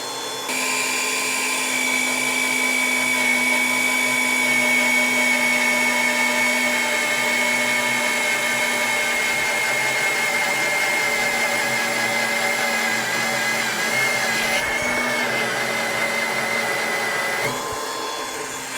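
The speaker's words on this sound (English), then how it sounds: "that might be the easiest 9/16 inch hole I've ever drilled in steel" A drill press bores a 9/16 inch hole through 3/8 inch thick steel, giving a loud, steady, high-pitched whine that holds for most of the stretch. The pitch shifts briefly near the end as the bit breaks through, with no talking.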